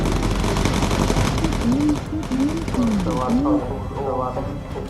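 Rapid machine gun fire from a bomber's gunner in the video game Bomber Crew rattles continuously and loudly under a voice talking over it.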